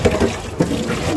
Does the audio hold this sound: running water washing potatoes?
yes